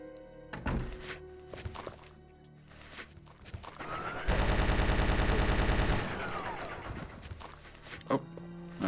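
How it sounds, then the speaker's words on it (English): A Gatling gun in the survival horror game Resident Evil 2 spins up and fires a dense, steady rattling burst of about two seconds, surrounded by scattered thuds and game noises. "we might as well have fun with a Gatling gun"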